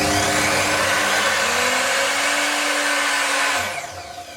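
An Evolution R255SMS multi-material sliding mitre saw runs loud and close with a steady motor whine, then the electronic brake cuts in, pulling the pitch sharply down as the blade spins to a stop.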